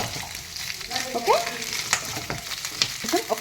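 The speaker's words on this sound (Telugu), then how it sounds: "ఓకే కొంచెం ఈ గార్లిక్ కొంచెం ఫ్రై అవ్వాలండి" Garlic sizzles and crackles in a hot pan with oil, a steady frying hiss punctuated by small pops and the occasional scrape of stirring, heard up close with no talking.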